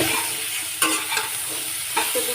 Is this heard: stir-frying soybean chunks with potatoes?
yes